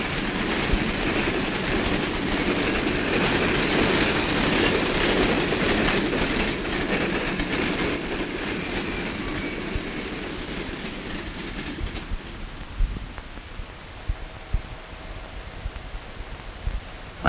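A train rolls along a railroad main line, a steady broad rumble with rustling texture that eases off partway through, leaving quieter scattered clicks and knocks near the end; no voices.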